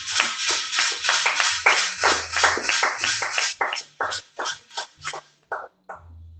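A church congregation claps steadily, dense at first and then thinning into a few spaced, separate claps near the end.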